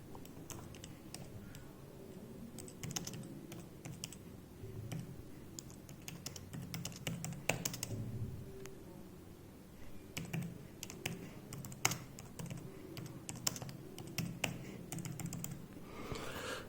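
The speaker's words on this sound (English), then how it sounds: "So let us just try to type something." Typing on an iPad keyboard into a blank Microsoft Word document produces a run of soft, quick key taps at moderate distance. The taps come in irregular bursts with short pauses over a low background hum, and no one speaks.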